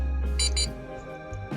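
Aftermarket JDI push-start remote fob on a Honda Integra XSi gives two short, loud electronic beeps in quick succession, close by, over a steady low engine-like hum.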